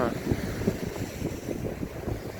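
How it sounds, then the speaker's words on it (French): Steady wind roaring across the microphone by the ocean shore, a constant low rumble with gusty buffeting throughout. "il y a plus de vent quand même"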